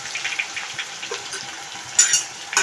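A roasted onion-coconut masala paste sizzles and crackles steadily in hot oil with curry leaves over medium heat, while a spoon scrapes and stirs close by, with a brief louder hiss near the end.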